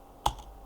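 A single computer keyboard keystroke or short key tap while entering a Unix mkdir command, one crisp click close up in a quiet room.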